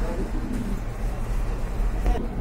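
Pigeons at a pigeon market with many local and foreign breeds, soft cooing steady and close across the whole stretch, with a continuous murmur of low background noise and faint voices.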